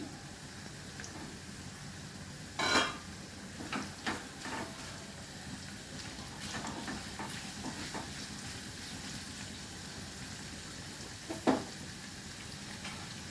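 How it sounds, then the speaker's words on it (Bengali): Carrots and chopped green chilies fry in a pan with a steady, quiet sizzle, broken by a few sharp clinks of a utensil stirring near the start and end. "গাজরগুলো একটু ভাজবো।"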